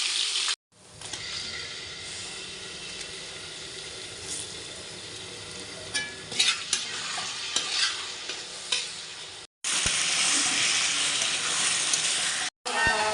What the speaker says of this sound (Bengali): কাঁচা লঙ্কা আদা জিরে ধনে দিয়ে কষবো মশলাটা।